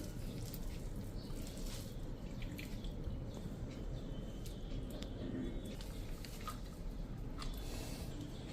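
Grated potato is rinsed and pressed in water in a home kitchen to wash out the starch. The wet sloshing, squishing and dripping is continuous and fairly quiet.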